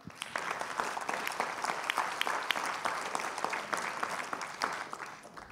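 Applause from an audience at a French awards presentation and trophy ceremony, dense, steady clapping that continues evenly throughout at a moderate distance, with no speech over it.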